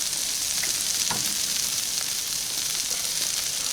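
A stick of butter sizzles and fries on a hot Blackstone griddle, giving a steady, close, bright hiss that holds for the whole stretch, with a faint tap or scrape near the start.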